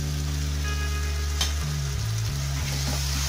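Tomato puree hits hot oil and fried spice paste in a pan while cooking a Bengali prawn malaikari, bursting into a loud, steady sizzle with a sharp crackle partway through and stirring noises beneath.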